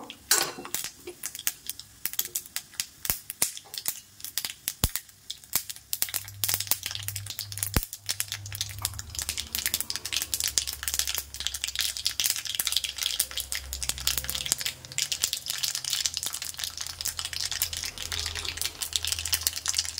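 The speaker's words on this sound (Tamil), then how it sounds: "கடுகு நல்லா வெடிக்கட்டும்." Mustard seeds splutter in hot oil in a small tempering ladle, giving a close, dense stream of irregular crackles and pops that keeps going steadily over a low background hum.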